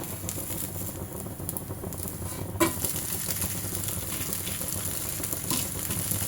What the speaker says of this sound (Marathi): आता आपण हा डोसा काढूया हे बघा आपण याला पलटवून घेऊया